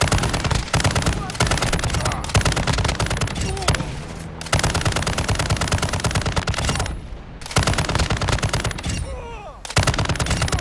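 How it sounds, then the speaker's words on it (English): Rapid machine-gun fire dominates a firefight in the game Call of Duty: Modern Warfare II DMZ, loud sustained bursts broken by brief pauses, with a few faint voices underneath. "Taking effective fire!"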